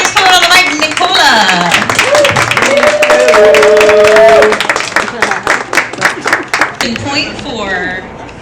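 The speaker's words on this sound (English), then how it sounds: "keep that applause going for our next poet on the mic, Nicola." An audience at a Pittsburgh poetry night claps and cheers in a dense, sustained burst of applause, with a voice talking over it before the clapping thins out toward the end.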